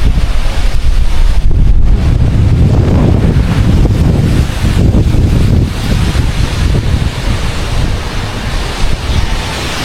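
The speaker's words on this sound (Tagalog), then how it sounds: "bumubugso na naman ang hangin, oh. Oh, lakas ang hangin." Strong gusting wind buffets the microphone in loud, rough rumbling bursts that swell and ease over about ten seconds, with a watery roar beneath and no voices.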